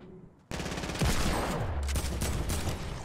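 Rapid automatic fire from a mounted turret in a Fortnite match, loud and sustained after a brief quiet start, continuous bursts with a deep rumbling layer.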